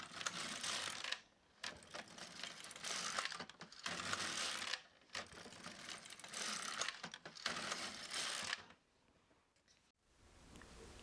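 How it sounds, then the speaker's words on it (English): Hand-operated knitting machine knitting a few rows for a picot hem, the carriage swept back and forth in long rattling, whirring passes with brief pauses between them, close and moderately loud, with no talking. "I will knit a few rows and take it off the machine."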